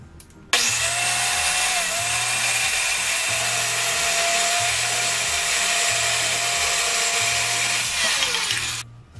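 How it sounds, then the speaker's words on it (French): A power tool runs steadily while cutting three pieces of wood for Christmas craft projects, a loud sustained high whine lasting about eight seconds with a faint pulsing hum underneath, starting and stopping abruptly. "Donc je suis prête à couper mes 3 morceaux de bois."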